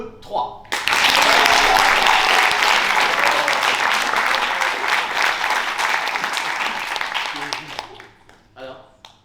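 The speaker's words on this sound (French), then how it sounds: "Vous me faites un applaudissement et peut-être même des petits sons de bouche." An audience at a student improv theatre show breaks into a loud burst of applause mixed with whoops and mouth noises, holding strong for several seconds before fading, with brief voices before and after.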